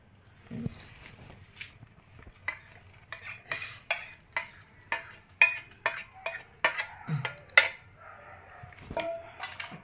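A spoon stirs tempered oil into a homemade raw amla pickle, making a rapid, irregular series of wet scraping and clinking strokes against the container, close-up, with a faint low background murmur.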